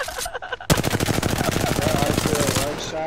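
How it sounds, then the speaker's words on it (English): Peacekeeper shotgun blasts in an Apex Legends firefight, a sharp crack followed by a dense, rapid run of gunfire rattling steadily for over two seconds amid game sounds. "Shot, and then they finish with that one peacekeeper"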